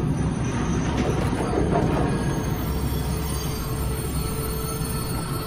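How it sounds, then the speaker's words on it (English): A train rolls on rails in Wolfenstein II: The New Colossus, a loud continuous rumble of wheels and carriages with faint metallic squealing, steady throughout. "Do I want to stop the train?"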